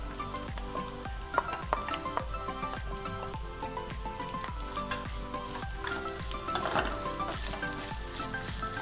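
Orange peel dropped into hot oil for pickle, sizzling and crackling steadily in a pan with a dense, continuous frying hiss and frequent sharp pops, close and fairly loud, no talking.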